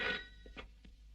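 A landline telephone gives one short, faint ring burst, then falls quiet with only a few soft clicks and bumps.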